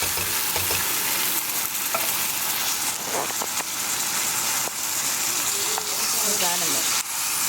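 A whole can of diced tomatoes being stirred into softened onions and garlic in a hot pan, making a loud continuous sizzle with wet scraping and spoon clatter, close up throughout.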